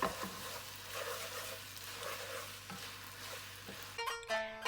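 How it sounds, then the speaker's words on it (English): Cooked meat being stirred into yaki udon noodles in a hot pan, a soft continuous sizzle with a few light scrapes and knocks, followed by a brief clatter at the end. "Add the meat and stir everything just to mix it in"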